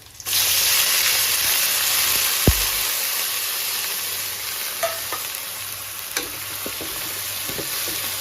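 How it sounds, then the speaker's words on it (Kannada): Prawns and browned onion frying together in a pan, a continuous bright sizzle with a sharp clack and scattered spatula scrapes and taps over several seconds. "ಹಾಕ್ಬಿಟ್ಟು ಚೆನ್ನಾಗಿ ಫ್ರೈ ಮಾಡ್ಕೊಳ್ಳಿ"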